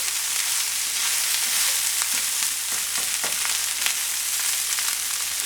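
Sliced Spam frying in a hot pan, a steady close sizzle with scattered crackling pops and no voices.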